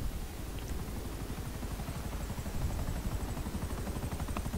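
A helicopter in GTA Online thrums with a steady, fast rotor chop under a constant engine whine, loud and continuous throughout.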